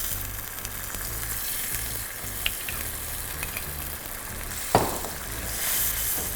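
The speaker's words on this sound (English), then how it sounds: "But I'm going to add in vodka." Creamy pasta sauce sizzles steadily in a pan after vodka goes in, a constant close frying hiss with a few light clinks and one sharper knock of a utensil against the pan.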